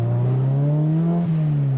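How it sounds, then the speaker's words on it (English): A turbocharged Honda CRX with hood vents installed runs under acceleration, its engine drone rising slightly as the turbo spools with a faint whistle, loud and close for a brief moment. "You can really hear the turbo too"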